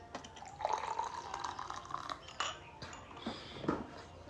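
Hot water being poured in a home kitchen, a steady liquid stream with gurgling and dripping that rises and falls over several seconds, close up with no talking.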